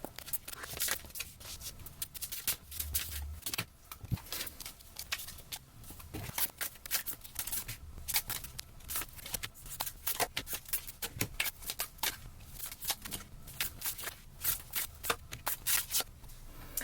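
Tarot and oracle cards are shuffled and laid out, a dense, continuous run of close papery riffles, flicks and snaps with rapid irregular bursts throughout and no voice.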